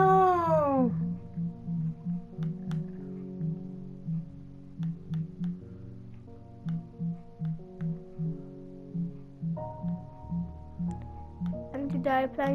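A cartoonish cat character called Stabby Cat in a minigame gives a drawn-out meow, then a steady run of short repeated tonal blips, with a rising chirpy call near the end.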